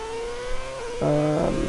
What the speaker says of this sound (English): Driving the Ferrari F10.